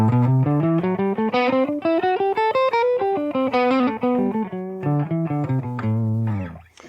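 A guitar runs quickly up and down a minor pentatonic-based scale in a steady stream of picked notes, ending on a low held note, with no talking.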